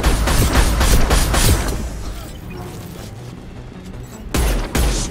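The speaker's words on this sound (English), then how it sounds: "Explosion." Explosions and gunfire-like booms in the video game Mass Effect 2, a burst of loud repeated blasts at the start, quieter rumble in the middle, then two more heavy thuds near the end.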